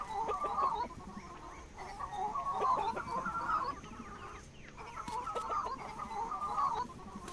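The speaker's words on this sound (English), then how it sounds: "I love the way they cluck when you pet them too." Chickens in the farming video game Dinkum cluck in repeated bursts when petted, several short clucking phrases separated by brief pauses, clear and close with no talking.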